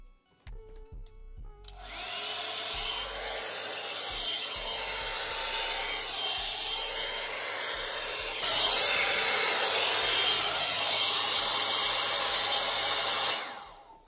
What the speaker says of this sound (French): J'utilise une brosse soufflante que j'ai trouvée sur Amazon